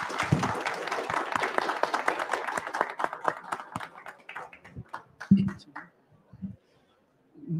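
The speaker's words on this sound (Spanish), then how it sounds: "un aplauso para el profesor Casallas" An audience applauds Professor Casallas at a book presentation, a dense burst of clapping that thins into scattered claps and fades out, with some voices mixed in.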